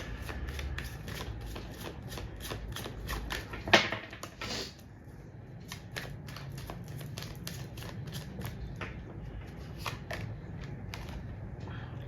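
Tarot cards being shuffled, a rapid run of crisp riffling flicks and slaps that continues steadily throughout, close and clear, with one louder snap partway through.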